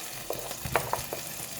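Onions stir-fry in a pan with a steady low sizzle, while a few soft scrapes and taps from the spatula come through close by.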